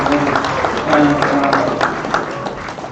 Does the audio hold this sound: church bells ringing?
no